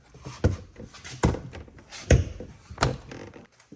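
Snapping a plastic trim piece into a BMW door panel gives four or five distinct close thunks and knocks spaced about a second apart, with faint handling rustle between them.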